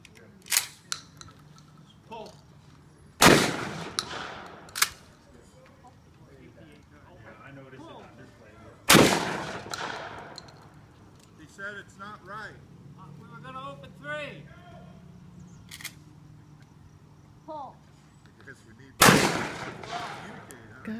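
Three loud, sharp gunshots ring out from shotguns at a clay-target shooting range, widely spaced amid chatter and shouts from people standing nearby.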